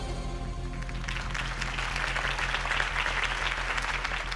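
Crowd applause erupts after a campaign speech in the Batman Telltale video game, a low hum giving way to a sustained wash of clapping and cheering that holds steady at moderate level.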